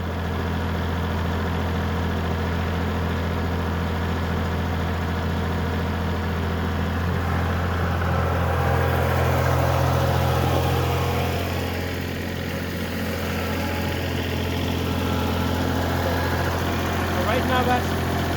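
A Kubota L3901 compact tractor on R4 tires with 1,000 lb of ballast runs steadily in snow, its low engine drone holding constant and swelling slightly midway, with faint talk in the background.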